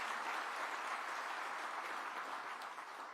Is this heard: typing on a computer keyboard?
no